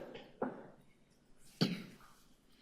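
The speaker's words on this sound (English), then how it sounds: "We can hear you cough." Two short coughs at a city council meeting, faint and somewhat distant, separated by about a second of quiet room noise.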